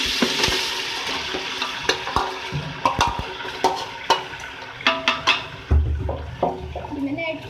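Beef pieces fry in hot ghee left from frying onions, making a continuous lively sizzle with repeated spoon-stirring scrapes and knocks against the pot.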